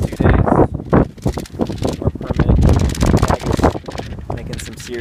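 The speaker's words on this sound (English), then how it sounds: "Serious ruckus right now because this wind up here is pretty intense" Strong gusty wind at the Longs Peak trailhead buffets the microphone with loud, rumbling roars that rise and fall throughout, with faint sounds of gear being handled.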